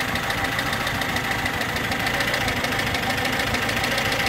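A VAZ 21011 engine idling after a head gasket replacement, with the distributor adjusted for steady revs; a close, continuous mechanical chatter with a regular pulsing rhythm and no talk.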